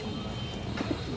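A pair of full down shape pigeons with boot beaks coo close by, a short burst of soft, throaty cooing notes over light background noise.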